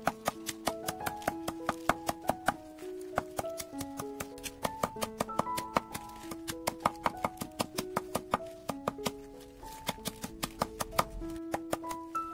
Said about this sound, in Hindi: मैंने केले के पत्तों को भी छोटे टुकड़ों में काट लिया